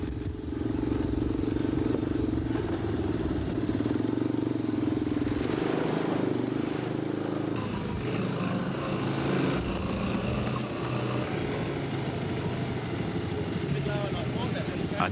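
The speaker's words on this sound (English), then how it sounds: "Malcolm and Jack, on their wide-tide bikes, negotiate the floodplains with ease." Motorbikes ride across open floodplains in Kakadu, a continuous engine drone that rises and shifts as they travel, with a narrator speaking over it throughout.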